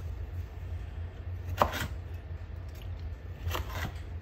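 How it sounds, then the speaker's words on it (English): A chef knife slices through a baked almond biscotti log, making two crisp crunching cuts a couple of seconds apart, close and clear over a low background hum, with no voices. "You're probably going to want a chef knife, or a knife that's long as the cookie is, so you can make clean cuts."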